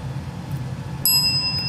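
A young ten-week-old Dachshund puppy strikes a metal service bell once, and a single clear, bright ding rings out close by and lingers over a quiet indoor background.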